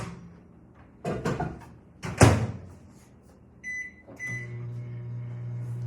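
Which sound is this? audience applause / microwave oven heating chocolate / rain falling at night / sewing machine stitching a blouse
microwave oven heating chocolate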